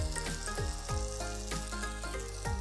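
Rose cookie batter frying in hot oil, a continuous close sizzle with bubbling and a few soft metallic knocks of the mould.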